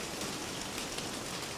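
Heavy rain pours down outdoors, a steady, dense hiss that holds evenly throughout with no pauses and no voices.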